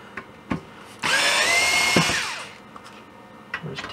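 A power driver backs screws out of the case of a Rupert Neve 5042 tape emulator: one loud, close whir lasting about a second and a half that rises, then winds down, with small clicks and knocks before and after.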